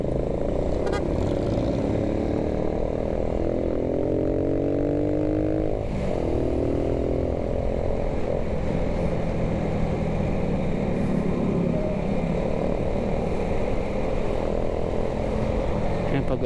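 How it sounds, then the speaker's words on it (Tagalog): A Ducati Monster motorcycle engine running smoothly after an oil change on a ride near Blue Mountain, a loud steady drone with wind rush and a few rising and falling revs. "Kaya magandang takbo ng makina, oh. Linis at tahimik, no?"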